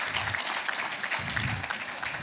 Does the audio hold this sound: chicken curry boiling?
no